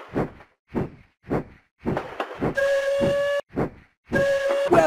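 Cartoon train in a Peppa Pig mobile game: a steady puffing chug in regular beats, broken by two bright toots of a steam whistle with hissing steam, loud and clear with no talk.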